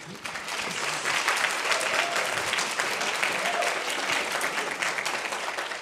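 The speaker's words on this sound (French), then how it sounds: "Donc on vous applaudit." Sustained applause from an audience at the ULB finale of the MT180 thesis-presentation contest, dense and steady for several seconds with a hint of voices in the crowd.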